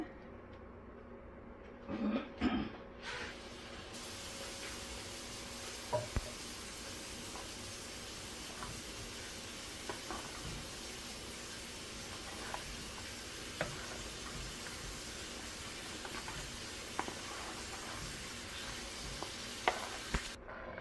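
Butter sizzles softly in a pan of street-cart sambar as a spoon stirs, a steady faint hiss broken by small ticks and scrapes, with a couple of louder clatters near the start.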